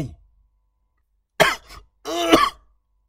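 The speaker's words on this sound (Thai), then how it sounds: "เย่เวยกระแอมไอออกมาอย่างหนัก เอามือกุมหน้าอก" A man coughs hard, a sharp first burst followed by a longer rough throat-clearing cough, loud and close against silence.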